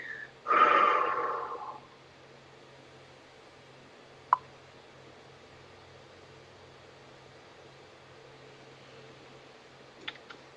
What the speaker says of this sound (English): You may even exhale it out.